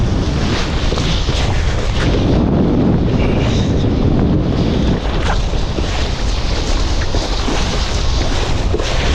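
Gusty, on-and-off wind roars loud and continuous across the microphone while foil kiting with a Flysurfer Sonic 5 kite on open water, with rushing water beneath it and no talk.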